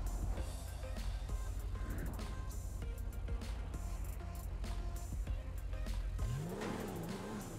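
Porsche sports car in GTA 5 speeding down a steep mega ramp, a steady loud engine roar throughout with a sharp revving rise near the end, over busy game music.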